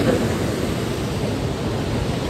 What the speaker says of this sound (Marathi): खालून अलकनंदा नदी वाहते.